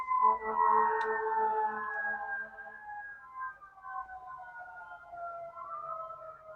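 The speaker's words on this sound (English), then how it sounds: "I will pause for the sirens." Sirens wailing outdoors, a single rising-and-falling tone gliding down in pitch over several seconds, moderately distant and fairly faint, with no other sound around it.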